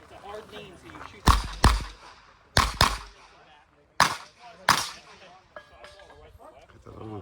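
Revolver gunshots ring out on a USPSA competition stage, five sharp loud reports in two quick pairs and a single shot, with talk in between.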